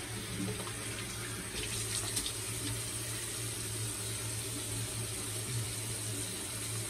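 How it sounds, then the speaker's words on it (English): Steady running water from a bathroom faucet splashes into the sink as a face is wetted before a lavender shave, a continuous even wash with no voices over it. "Let's go ahead and just put a little water on my face."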